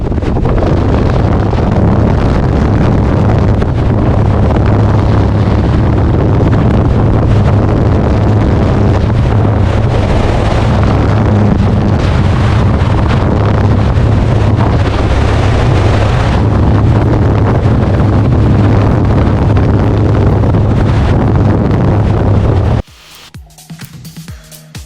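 A three-axis ultralight aircraft engine roars at full throttle on takeoff at La Baule-Escoublac, a loud, continuous drone buffeted by heavy wind noise, cutting off abruptly near the end.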